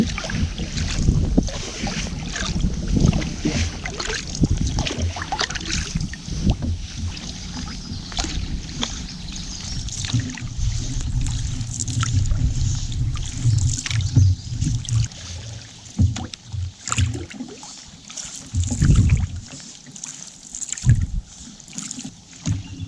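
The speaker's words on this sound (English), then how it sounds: "So now enjoy the peaceful paddle." Canoe paddling on a wilderness lake, with paddle strokes and water splashing over steady wind rumble on the microphone, plus occasional knocks against the hull.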